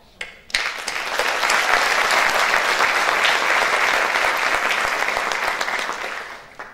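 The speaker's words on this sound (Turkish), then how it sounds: "Alkışlarımız devam etsin." Steady applause from a choir concert audience swells after a sharp first clap and holds as dense, even clapping from many hands, fading slightly at the end.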